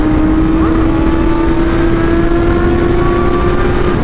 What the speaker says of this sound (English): Let's get a wheelie going here.